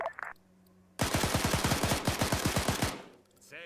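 Rapid automatic gunfire in the military shooter Arma 3, a loud close burst of about a dozen evenly spaced shots lasting roughly two seconds, with brief radio chatter before and after.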